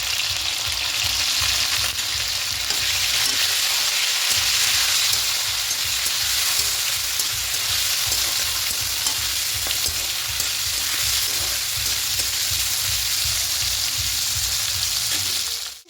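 Cauliflower pieces fry steadily in hot oil with salt and turmeric, a loud, continuous sizzle and crackle with a low rumbling bed that holds for the whole stretch with no talk.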